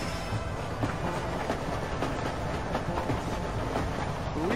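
A train runs in the Red Dead Redemption video game, a steady rumbling ride with faint rhythmic clicks of wheels on track, continuous and fairly close, with no speech.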